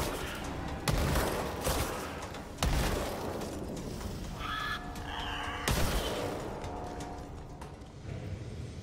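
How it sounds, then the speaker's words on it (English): Gunfire in the video game Control: several sharp, loud shots burst out at irregular intervals over a dense, noisy layer of ongoing game action and mechanical clatter. "You can't hear all this gunfire?"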